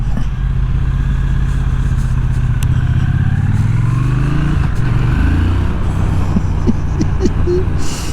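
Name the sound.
2025 Triumph Speed Twin RS motorcycle engine while riding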